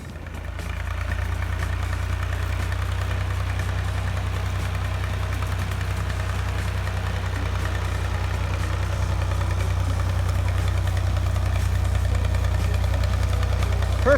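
A tractor engine runs steadily at a low, constant idle-like rumble, close and continuous throughout, with faint mechanical clatter above the deep drone and no talking.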